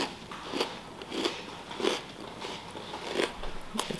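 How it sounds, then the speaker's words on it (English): Several crisp crunching bites into a homemade snack, repeated about every half second to second, close and fairly quiet with light crackling and no talking. "I'm gonna give you guys a crunch"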